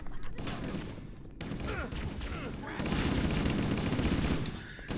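Rapid gunfire in Halo: Combat Evolved, bursts of shots and crackling battle effects mixed with game sounds, fairly loud and continuous.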